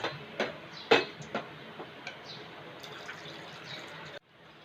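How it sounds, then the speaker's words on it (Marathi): Water poured from a bowl into cooked dal in a pot for Konkani godi dal, a steady wet pouring with a few sharp clinks near the start, stopping abruptly before a quiet end. "आता याच्यामध्ये आपण पाणी ॲड करणार आहोत"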